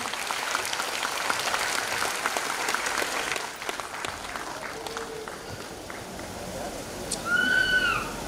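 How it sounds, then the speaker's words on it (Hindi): Applause from an audience at an abacus school's annual award ceremony, a fairly faint, steady patter of clapping that carries on under a hall's background noise, with a brief whistle-like tone near the end. "जोरदार ताली बजा दीजिए ऊपर से नीचे तक"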